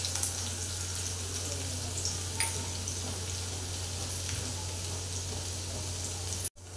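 Crushed garlic cloves with cumin seeds sizzling in hot oil in a kadhai, a steady, fairly quiet frying hiss with a low hum underneath and a few faint clicks.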